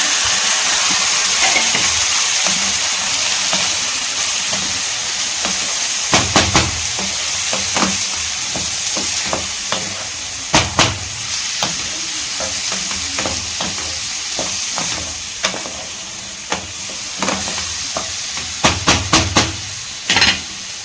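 Tomatoes with ginger garlic paste sautéing in hot oil for a mushroom thokku, giving a loud, steady sizzle and hiss throughout, broken by repeated scraping clatters of a spoon stirring in the pan.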